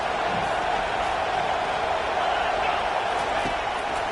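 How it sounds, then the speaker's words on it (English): Stadium crowd noise at a Steelers football game during a third-down defensive stand, a dense, steady roar that stays loud throughout with a faint announcer-like voice mixed in. "Decibels rising as the crowd gets behind this defense on third down"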